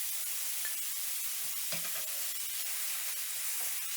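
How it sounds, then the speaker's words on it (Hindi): Chopped large onion sautéing in a pan, a soft steady sizzle and frying hiss with a few faint stirring clinks, close and continuous throughout with no voices. "प्याज को हमने बहुत ज़्यादा फ्राई नहीं करना, जस्ट हमने सोते करना है"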